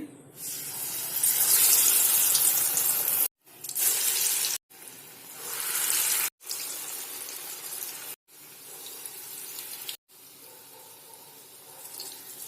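Urad dal vada batter dropped into hot oil gives a bright, loud frying hiss, cut into bursts by several sharp breaks of silence, each burst fading a little before the next.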